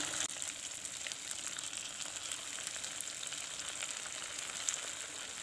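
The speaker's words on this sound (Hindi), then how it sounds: "ऑयल गर्म हो चुका है, हम इनको शैलो फ्राई करेंगे।" Leftover rice patties shallow-frying in refined oil over a low flame: a soft, even sizzle with fine crackling pops throughout, fairly quiet and without speech.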